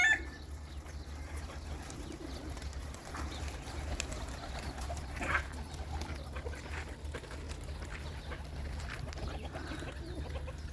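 Pigeons being fed grain in Al-Qassim, Saudi Arabia, give low, faint cooing and soft murmurs over a steady background hum, with a few brief clucks.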